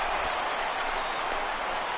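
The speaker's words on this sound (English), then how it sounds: "This crowd oohs and ahs every time this guy hits a fly ball." A ballpark crowd in MLB The Show 16 rises in a broad, steady roar of oohs and murmurs at a fly ball, a dense distant wash of many voices with no single speaker.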